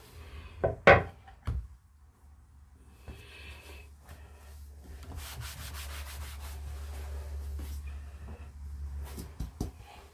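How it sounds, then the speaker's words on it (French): A knife peels apples in a home kitchen while a roast chicken with apples is being made. Soft, close scraping and rubbing comes in uneven strokes, with a few sharper taps near the start. No one speaks. "Ensuite, nous allons éplucher nos pommes."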